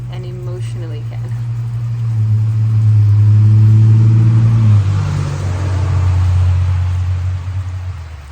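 Cars pass by on a road, a broad engine rumble swelling to a peak midway and then fading, with a second vehicle following, moderately loud and alone without talk.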